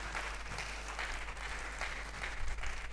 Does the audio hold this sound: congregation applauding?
yes